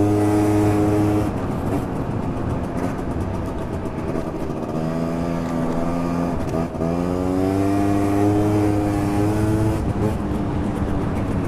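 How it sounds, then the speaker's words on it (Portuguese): Small motorcycle engine running in a parking lot, a loud steady buzzing idle with harmonic tones that shift pitch as it revs slightly, close by and continuous without talk. "Pegando a motinha aqui."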